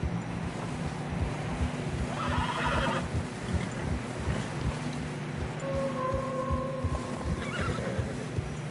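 A horse in the video game Red Dead Redemption 2 whinnies once in a drawn-out call over a steady rumbling background on a snowy trail, with faint hoof and ambient noise and no talking.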